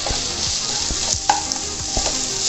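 Onions stirred in a non-stick pan, a steady sizzle under repeated scraping strokes of a spatula, close and fairly loud with no talking.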